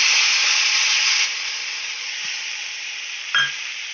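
Chili paste hits a hot pan with a loud, close hissing sizzle that eases after the first second into a steadier, softer fry, broken by a brief clunk near the end, with no voices.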